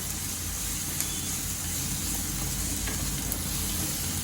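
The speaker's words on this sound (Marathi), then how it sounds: "ह्याला पण चांगलं मी अर्धा मिनिटापर्यंत परतून देईल" Spice paste sautéing in a pan for Khandeshi aubergine bharit, a loud, even sizzle that holds steady from start to finish with no talking.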